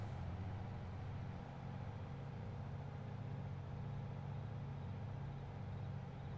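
A truck engine in Farming Simulator 22 on the Yukon Valley map hums at a steady, faint drone throughout, a continuous low rumble with no talk over it.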